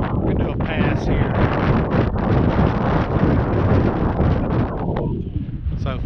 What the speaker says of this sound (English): the wind's kicking right now